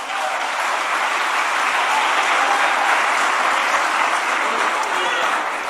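A church congregation at a celebration service applauds steadily and loudly, a dense continuous wash of clapping from many hands filling the room throughout.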